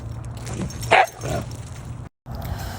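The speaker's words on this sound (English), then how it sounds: "So Nala, she's just a sweet little husky." A husky barks and whimpers nearby, with one sharp, loud bark near the middle among softer whines, then a brief moment of silence before the whining resumes.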